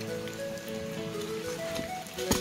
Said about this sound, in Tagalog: tapos patila lang tayo ng ulan.